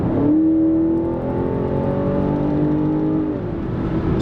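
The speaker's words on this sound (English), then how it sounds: "For instance, if I floor the car," A 2019 BMW X5 50i with its 4.4L V8 in Eco Pro mode accelerates at full throttle, a steady loud engine drone rising in pitch and holding for several seconds before easing off, with no voices.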